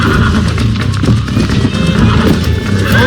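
Horse in Red Dead Redemption galloping with loud, continuous hoofbeats and a possible whinny, set against a dense, busy game soundscape.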